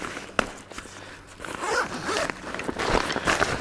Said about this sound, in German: Man macht den Reißverschluss auf und die Falte geht riesengroß auf.